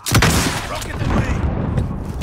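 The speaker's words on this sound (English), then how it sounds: "Rocket away." A rocket fires and blows up during a Domination match on the Shoothouse map in Call of Duty: Modern Warfare, a dense booming burst followed by sustained rumbling battle noise, with voice chatter over it.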